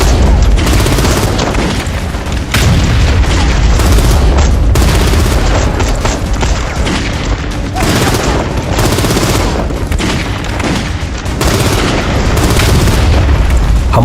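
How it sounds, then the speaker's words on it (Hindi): Sustained battlefield barrage from 3-inch mortars during a 1962 night attack by a Chinese battalion at Walong, a dense, loud wall of booming blasts and rattling fire with no pauses. "हमारे 3 इंच मोर्टार के सटीक फायर ने दुश्मन के बीच हड़कंप मचा दिया।"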